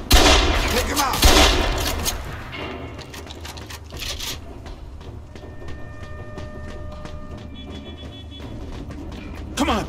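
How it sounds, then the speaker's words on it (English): Rapid gunfire from a Mafia II shootout crackles in dense bursts, loud at first and then thinning to scattered shots over a steady hum, with a shouting voice mixed in near the start. "They're shooting at me, for Christ's sakes!"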